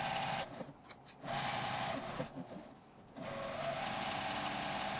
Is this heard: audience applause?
no